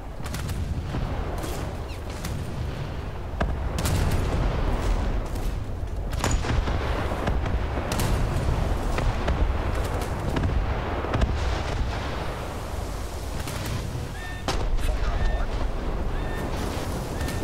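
Naval battle in the War Thunder video game: dense, continuous barrage of explosions and gunfire, heavy booms and sharp cracks layered over a rumbling background, loud and sustained throughout.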